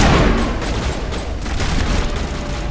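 Sustained gunfire and battle noise from the video game Mass Effect 1, a dense, loud, continuous barrage of shots and booms with no clear gaps.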